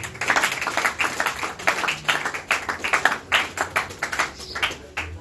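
Church congregation applauding after a Bible reading, dense rhythmic group clapping, fairly loud and continuous with no talking.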